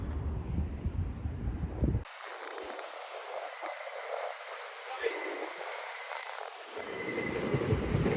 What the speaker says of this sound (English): Long Island Road M7, either from Ronkonkoma, Huntington, or Babylon or Long Beach, or Hampstead.